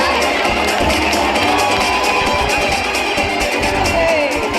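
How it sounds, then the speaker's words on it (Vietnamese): Audience applause and crowd noise at a Christmas and New Year company celebration, a dense, loud, steady wash of clapping and cheering from a large room that continues unbroken throughout. "Please give a big round of applause."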